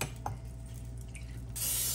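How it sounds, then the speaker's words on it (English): Cooking spray hisses onto a skillet before beef stew goes in, a quiet room tone that breaks into a steady, close spraying hiss for the last half second or so. "I'm gonna spray it with my pan spray."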